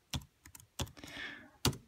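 A few sparse keystrokes on a Battop Bluetooth keyboard while entering a pairing code, crisp close clicks spaced irregularly with a soft rustle between them.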